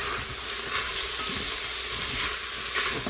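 A pot of cabbage potato soup being stirred as seasonings including onion powder are mixed in, giving a steady close sizzling, scraping hiss with brief swishing bursts throughout, with no talking.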